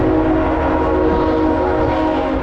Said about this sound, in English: There's a freight train that always comes through here.